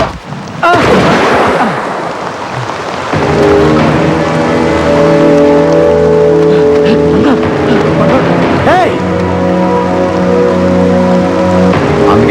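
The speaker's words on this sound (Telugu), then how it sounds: "వర్షం బాగా కురుస్తు" Steady broadband hiss of heavy rain fills the clip, beginning after a brief burst and continuing loud and unbroken, with a sustained mechanical drone and occasional voices underneath.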